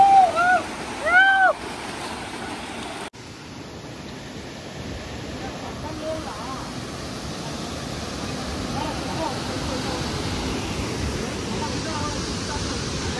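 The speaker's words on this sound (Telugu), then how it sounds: "ఫైనల్లీ దుగర్వాడి వాటర్ ఫాల్కి అయితే రీచ్ అయినాం." The Dugarwadi waterfall near Nashik flows heavily, giving a steady, broad rushing roar that fills the scene. It begins after a brief burst of speech and some handling noise, then holds constant and fairly close.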